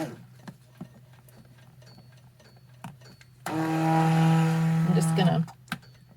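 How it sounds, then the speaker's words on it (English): A stick blender churns thick hot process soap batter with a loud, close, two-second motor whine and whir, set between quiet stretches of scattered knocks and handling noises. "this stupid stick blender"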